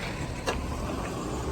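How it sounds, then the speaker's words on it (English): A garbage truck works near a residential gutter job, giving a constant dense mechanical rumble and hiss with a brief whine partway through. "Got a garbage truck over there. They're working."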